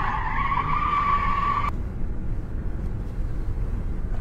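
A car skids on the road just before crashing into a truck, a loud steady tyre squeal for under two seconds that cuts off abruptly, leaving low rumbling road noise.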